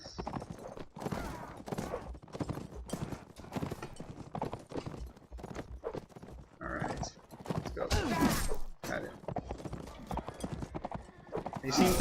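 Rapid hoofbeats of several horses galloping in the video game Mount and Blade Warband, steady and loud throughout, with a whinny among them and scattered clatter mixed in.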